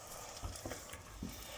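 Liquid reduces almost to dryness in a saucepan with artichokes, giving a faint, soft sizzle with a few gentle stirring scrapes and bubbling pops, heard quietly at close range.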